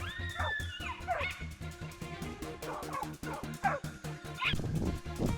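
Hunting dogs bark and yip repeatedly at a wild boar, a rapid rhythmic volley of close, echoing barks mixed with higher whining yelps.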